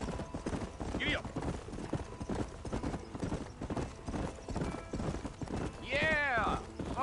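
Rhythmic hoofbeats of a horse galloping in the western video game Red Dead Redemption, steady and close under ongoing character dialogue, with a horse whinny near the end.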